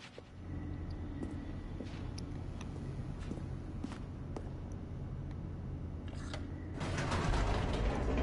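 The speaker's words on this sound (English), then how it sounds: "The elevator raced downward, plummeting towards an unknown fate" An elevator descends in The Stanley Parable, a steady mechanical rumble with creaks and clanks throughout that swells louder near the end, with no voices.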